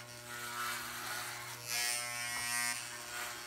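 Electric hair clippers buzz steadily near at hand, the tone shifting and growing louder and brighter as the blades move through short hair, no talking.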